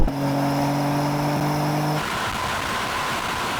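A high-performance car roars at high revs near the rev limiter during a drag race between an AMG C63, a BMW M3 and an Audi RS4, a loud sustained droning engine tone that shifts abruptly partway through into a rougher roar.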